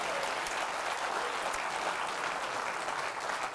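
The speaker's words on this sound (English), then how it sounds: "So give a round of applause to Sony" Sustained audience applause at a live tech talk show, dense and steady for the full stretch with no voices over it.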